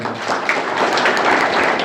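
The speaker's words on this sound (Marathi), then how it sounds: "जोरदार गावडे साहेबांसाठी टाळ्या होत्या" A crowd at a Maratha community gathering applauds a speaker, a dense, steady wash of clapping that stays loud and close for the whole short stretch, with no voices over it.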